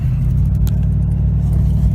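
A truck with nearly 390,000 miles rolls along Interstate 95, a four-lane highway, at under 30 mph, giving a loud, steady low engine and road rumble from inside the cab with no talking.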